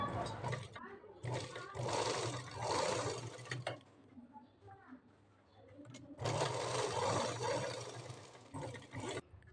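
A sewing machine stitches blouse fabric at the front neckline in bursts, with loud runs near the start, middle and end separated by quieter pauses.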